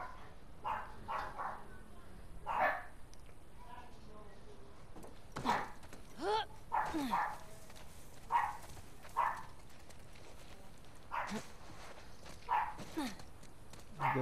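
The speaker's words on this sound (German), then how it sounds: "Das sind die Hunde" Dogs barking in the video game The Last of Us Part II, a series of short, moderately loud barks and yips repeating irregularly at mid distance over faint background ambience.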